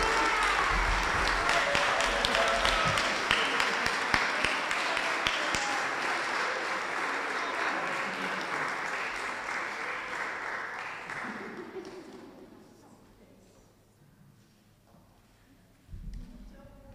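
A community show audience gives a sustained round of applause for a performer, steady and broad at first, then tapering off and dying away near the end as a voice briefly returns.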